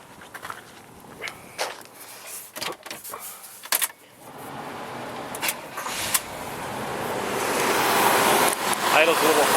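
A bone stock demolition derby car's engine starts up after a few sharp clicks and knocks, then settles into a steady running roar that builds louder over several seconds.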